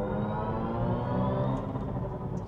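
Mini Cooper SE JCW electric car driving, a smooth sustained electric motor whine with a slowly rising tone, fairly close and steady, no talking.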